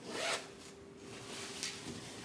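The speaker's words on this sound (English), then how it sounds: "And zip it up." A zipper pulled closed on a sublimated fabric pillow cover, a soft, close, continuous rasp lasting a couple of seconds with slight surges, otherwise quiet.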